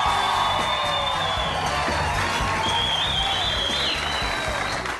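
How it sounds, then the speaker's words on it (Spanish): A big round of applause from a television studio audience at Sábados Felices, loud and continuous, with cheering and whoops mixed into the steady clapping. "Ayúdenme a recibir con un gran aplauso y mucho cariño a Barbarita."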